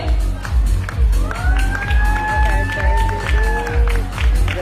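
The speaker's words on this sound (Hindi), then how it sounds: "तो एक बार जोरदार तालियां हो जाए हमारे AWPL के स्टाफ के लिए" At a company women's day event, a crowd claps and cheers for the staff while a heavy rhythmic music beat pounds underneath, and drawn-out whoops and voices rise over the mix.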